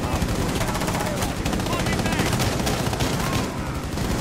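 Rapid, dense gunfire rattles from a window in a shooter game, loud continuous automatic bursts dominating with a voice mixed underneath.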